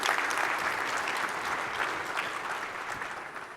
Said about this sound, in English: that's worth a round of applause, right?